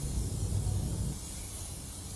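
A short hissing spray burst from a Würth silicone spray aerosol can onto motorcycle plastic, close and fairly loud, cutting off after about a second into quieter background noise.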